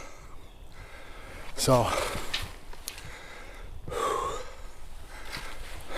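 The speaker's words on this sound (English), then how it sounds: "Out of breath." A person out of breath after exertion, with sharp snorting inhales and heavy gasping breaths in bursts close to the microphone, a brief spoken word mixed in.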